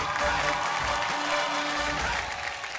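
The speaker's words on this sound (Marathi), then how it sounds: "पुढच्या खेळाकडे एकदा जोरदार टाळ्या होऊन जाऊ दे, जोरदार टाळ्या" An audience at a Marathi TV game show claps in loud, sustained applause that holds steady for the whole stretch before easing slightly at the end.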